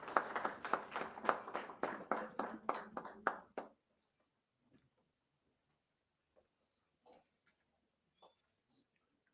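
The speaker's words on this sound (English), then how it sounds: "With a huge round of applause, please welcome Mr." An audience at a corporate summit gives a big round of applause to welcome a speaker from Sun Pharma. The clapping is dense and steady for about three and a half seconds, then stops abruptly, leaving near silence with a few faint sounds.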